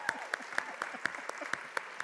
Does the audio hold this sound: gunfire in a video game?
no